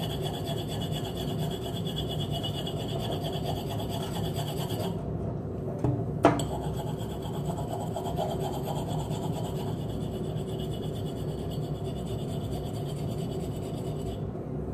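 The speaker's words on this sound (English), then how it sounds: "you get a regular kitchen knife, you hold your bottle, and you just start scratching" A kitchen knife scrapes sticky label residue off a glass bottle in steady, rough, close-up rasping strokes that run almost continuously, with a brief pause and a sharp knock midway and no talking.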